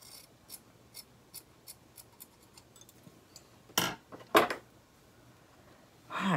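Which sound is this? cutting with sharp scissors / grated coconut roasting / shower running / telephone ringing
cutting with sharp scissors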